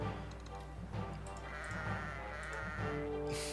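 Goats bleat in the Kingdom Rush tower-defense game, several wavering cries that overlap over a steady game soundtrack.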